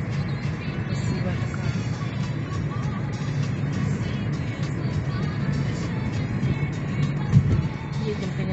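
A car rolls slowly along a road entering Solikamsk in Perm Krai, with a continuous low rumble of engine and tyres heard from inside the cabin. A faint voice sits under the steady road noise.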